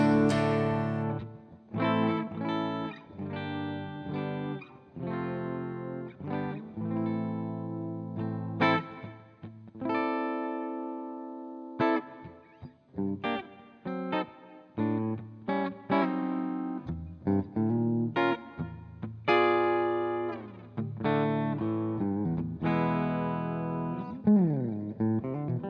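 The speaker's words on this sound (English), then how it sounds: "Bridge pickup, Les Paul with the green Dunlop pick." A Les Paul electric guitar on the bridge pickup, struck with a green Dunlop pick, plays a run of clean, close, ringing notes and chords, each attack sharp and sustaining briefly before the next.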